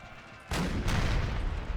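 Artillery fire in a Napoleonic war video game: a sudden heavy boom followed by a second blast, leaving a loud, sustained rumbling roar of cannon fire.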